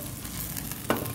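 A snack flipped while frying in a pan: a continuous close sizzle of hot oil with one brief clatter near the end as the piece is turned over.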